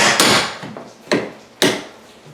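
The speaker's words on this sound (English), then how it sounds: "remove all the baseboard, and then put the flooring down and put the baseboards back on top" Baseboard being pried off a wall with a pry tool before a vinyl flooring install, giving three sharp, loud wooden cracks and knocks, each fading out, close by with no talking.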